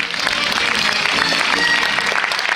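An audience at a Miss Poitou-Charentes preselection event in Parthenay claps to welcome Miss France 2015 as guest of honour, a dense, steady burst of applause filling the room, loud and continuous throughout.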